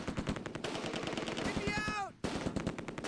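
Dense automatic rifle and .30 caliber machine gun fire in the World War II strategy game Close Combat II, rapid bursts overlapping continuously with a brief whistling shell or ricochet sweep before a short gap, then more firing.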